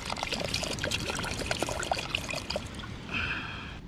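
Spring water poured at a raw camping spot in Agno, Pangasinan, a steady close splash and trickle for several seconds that thins into a lighter stream at the end.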